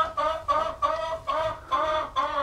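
Chickens in a paddock give repeated, rhythmic clucks, about six regular pulses close by, with no talking.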